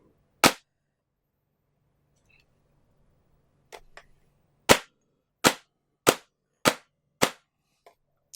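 An airsoft DSG gun fires over a chronograph in sharp, loud single cracks: one shot, a pause with faint clicks, then a quick run of about six evenly spaced shots and a softer final one.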